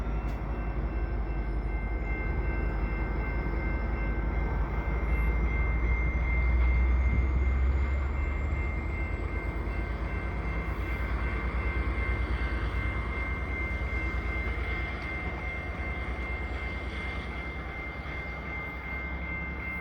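An EXO Candiac commuter train stops at a frosty winter station near Montreal: a continuous low rumble with faint high tones, swelling slightly midway and then easing as it slows. No voices.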